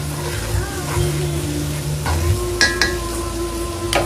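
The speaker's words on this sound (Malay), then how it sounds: "Biar telur ni masak dulu sikit-sikit." Close, continuous frying hiss from an egg cooking in a pan for nasi goreng kampung, with a low hum underneath and a few light clinks of utensils near the end.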